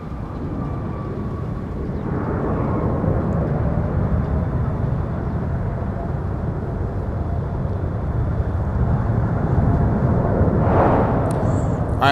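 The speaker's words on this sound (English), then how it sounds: "here's our arrival from Phoenix, and it's with the 321 Neo" An Airbus A321neo arriving from Phoenix lands at MSP airport, a steady broad roar of engine and rushing air holding loud for the whole stretch with a slight swell near the end.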